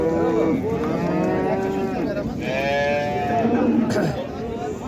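A dairy cow at the Qarshi Karvon livestock market lows loudly and close in long, drawn-out moos, while people talk nearby.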